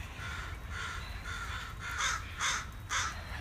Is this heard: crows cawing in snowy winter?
yes